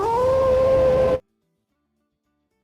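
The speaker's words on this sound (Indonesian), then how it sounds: "Lee Kaon yang baru aja melolong" A video game character lets out a howl, a steady, loud, tonal cry held for just over a second before cutting off abruptly into silence.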